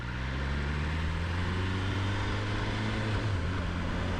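A BMW M1000R super naked motorcycle pulls away and rides at a slow pace, its engine droning steadily and loudly throughout with a constant low hum and broadband road and wind noise.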